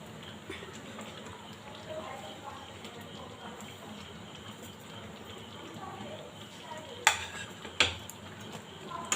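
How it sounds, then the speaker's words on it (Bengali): Fried spices are stirred into a melted mango and jaggery mixture with a soft, continuous scraping and stirring, and two sharp utensil knocks land near the end. Someone speaks over the cooking. "এবার এর মধ্যে ভাজা মশলাটা দিয়ে দিচ্ছি আমি।"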